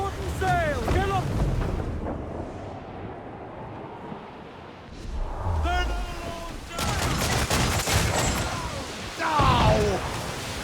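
Ship cannons firing during a naval battle in Assassin's Creed IV Black Flag, booming volleys and rumbling blasts over wind and sea noise, with crew voices shouting between the shots.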